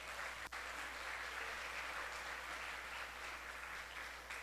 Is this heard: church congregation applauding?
yes